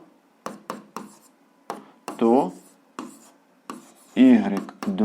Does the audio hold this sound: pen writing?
yes